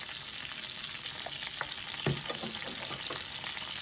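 Minced garlic sizzles steadily in a pan on the stove, a soft continuous frying hiss with a few faint stirring scrapes and taps, fairly quiet, with no speech.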